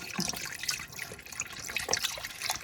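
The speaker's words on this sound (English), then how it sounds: "now I'm going to add in some beef broth" Boxed beef broth poured into a pot of simmering old-fashioned thick brown beef stew, a close, splashy, gurgling liquid stream with uneven bursts across a couple of seconds.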